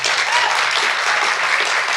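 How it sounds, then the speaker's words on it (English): Brief, steady applause from an audience at student oral presentations, an even spread of clapping hands at moderate loudness with no talk over it. "So let's give her a big round of applause"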